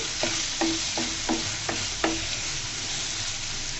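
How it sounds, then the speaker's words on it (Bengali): Spinach and potato with turmeric stirred in a frying pan for palong shaak: six distinct scraping strokes at a fairly even pace over a soft, low sizzle. "তারপর দিব আমি আধা চামচ মতো হলুদের গুঁড়া দিয়ে আমি আবারও নেড়ে চেড়ে দিচ্ছি।"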